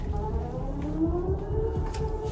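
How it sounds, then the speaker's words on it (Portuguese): A phone blares a wailing siren-style emergency test alert, steady and loud, with a rising tone that sweeps upward, sounding alone at close range. "Tá tocando alguma sirene aqui"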